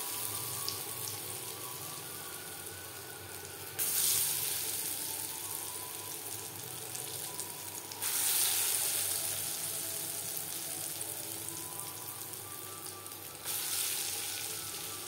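Chana dal batter for motichoor laddu fries over medium flame in a kadai, a soft continuous sizzle with periodic louder bursts as fresh batter drops into the oil.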